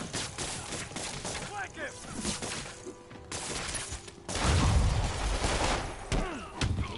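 Rapid bursts of gunfire in the Marvel's Spider-Man video game, dense and loud over a busy action soundtrack, with someone talking throughout.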